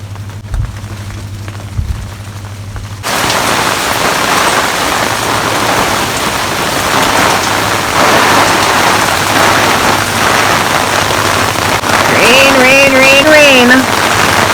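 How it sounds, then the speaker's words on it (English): Steady broadband hiss of tropical storm rain falling on a surface in a container garden begins after a few quiet seconds and continues, with a faint whistling tone near the end. "Rain."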